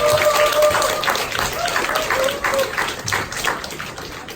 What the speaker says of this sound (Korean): 나올 때 큰 박수로 환영할까요?